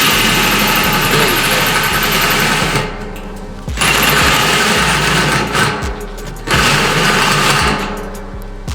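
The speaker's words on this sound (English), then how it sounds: "I'm using a drill that has seen better days, and I think this battery is weak" A cordless drill with a weak battery whirring loudly into a plastic 50-gallon drum in three long bursts, with short pauses between them and a rattling, buzzing motor tone.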